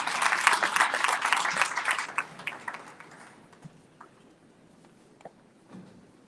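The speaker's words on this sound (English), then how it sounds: "A big round of applause." Audience applause at a public service summit opening ceremony, a dense burst of clapping that fades out after about two seconds, leaving a few scattered claps and quiet room noise.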